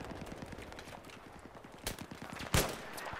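M40A5 sniper rifle gunfire in Battlefield 3, two sharp loud shots a little apart over a rapid rattling background of distant game gunfire, with no speech over them.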